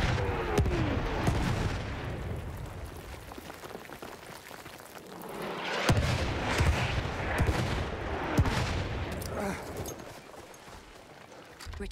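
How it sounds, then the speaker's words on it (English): Artillery barrage in a Battlefield 1 match, heavy booms and rumbling impacts spread across the scene with distant gunfire, while in-game voices speak over the battle. "Wait for for the enemy artillery barrage to stop firing."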